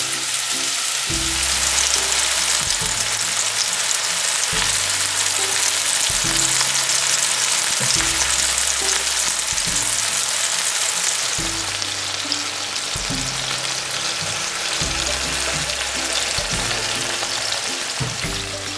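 Homemade gluten-free burger patties sizzling steadily in a hot pan, a loud continuous fry with a recurring low rumble throughout and no talking.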